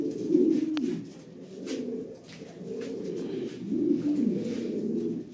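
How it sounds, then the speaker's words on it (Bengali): European Lahori pigeons cooing in a breeding loft, several low, soft rolling coos repeating close by, with a faint background hum and no speech. "দেখার মতো অনেক কবুতর আছে"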